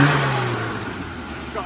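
Mid-to-late 1970s low-compression 998 car engine with an exhaust manifold blow, running steadily with a strong low hum and a slight rise in revs near the end.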